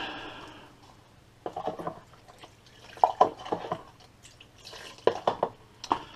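Water drips and splashes while a Metropolitan Vickers / GEC unit switch part is rinsed during servicing, in irregular close trickles and spatters that come in several bursts.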